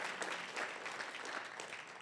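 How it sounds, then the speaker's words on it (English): Audience applause at a millionaires' summit networking event, a dense, steady wash of many hands clapping at moderate distance, fairly soft and continuous for about two seconds with no talk over it. "Let's give him a round of applause."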